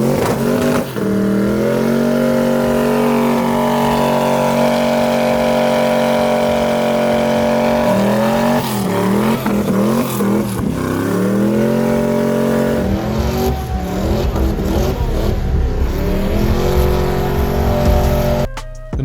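Twin-turbo LS V8, built from a stock 5.3-litre LS, in a C10 truck, idling loud and close with a steady rumble, then revving in several sharp bursts and settling back, with no talk.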